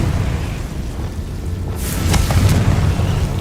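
A Confringo fire spell explodes in the Hogwarts Legacy video game, a loud rumbling boom with a crackling burst on top, set over continuous dense game noise.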